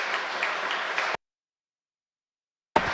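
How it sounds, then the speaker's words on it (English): Audience applause at a medical community event, a steady patter of clapping that cuts off abruptly partway through, then briefly resumes at the very end. "And please applause to our team of partners."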